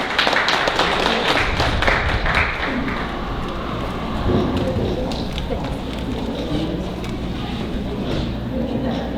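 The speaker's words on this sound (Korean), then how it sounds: "여러분 다시 한번 박수로 축하해 주시기 바랍니다" A hall audience at a regional social-welfare council award ceremony applauds steadily and loudly for several seconds, a dense wash of clapping that tapers slightly toward the end.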